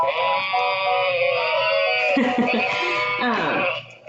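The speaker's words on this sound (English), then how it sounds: "So that's the sheep." A sheep bleat from a children's noisy sound book, with a buzzy electronic quality like toy playback, sustained for a few seconds and ending in a wavering tail.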